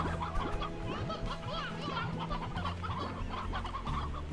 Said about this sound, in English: can I go put my my rooster in with my hens?